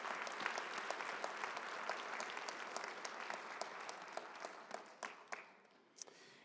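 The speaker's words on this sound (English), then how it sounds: "another round of applause for both the valedictorians this evening" Warm, sustained applause from a graduation ceremony audience for the valedictorians, dense clapping that thins into scattered individual claps toward the end.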